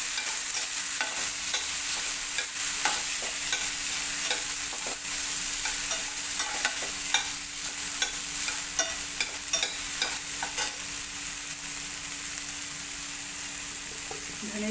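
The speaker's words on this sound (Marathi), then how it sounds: "नंतर मटार घालायचं आणि लगेचच अगदी एक छोटासा बटाटा घालून आपल्याला परतायचे." Peas and a small potato sautéing in a pan, a loud, continuous sizzle with frequent light clicks and scrapes of stirring, close and steady throughout.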